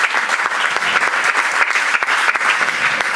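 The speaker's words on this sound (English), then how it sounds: "a round of applause for José Miguel" A round of applause greets José Miguel at the final event of a cleantech camp: steady, dense clapping from an audience, sustained and fairly loud throughout, with no one speaking over it.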